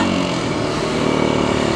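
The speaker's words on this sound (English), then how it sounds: "this engine's very happy revving high" A Kawasaki KLX250S dual-sport motorcycle with a carburetor revs high, its single-cylinder engine giving a loud, close, steady buzzing drone held for the whole short clip.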